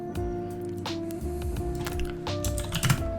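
Rapid typing on a computer keyboard while coding a Discord.js bot, close and steady clicking with irregular bursts of keystrokes, with a constant electronic hum behind it and no speech.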